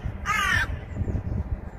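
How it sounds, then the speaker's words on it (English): A single crow caws loudly in a short burst beside a canal coarse fishery, then low rumbling background noise continues with no voices. "great big crow that went past"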